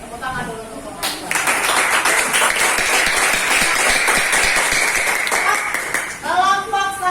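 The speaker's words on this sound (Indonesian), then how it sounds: "tepuk tangan dulu untuk kelompok" A classroom group of students gets a round of clapping from classmates after presenting an experiment on generating electricity from potatoes; dense, steady hand claps fill several seconds, with voices talking before and after.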